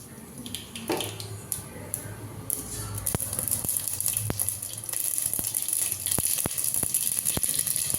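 Mustard seeds crackling in hot oil for a snake gourd stir-fry, a steady hiss with sharp popping clicks scattered through it, growing busier after the first few seconds, with faint background clatter.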